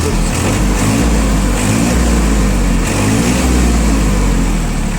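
A blue tractor fitted with a front loader idles loudly and steadily nearby, its engine holding an even low rumble and chug throughout with no speech.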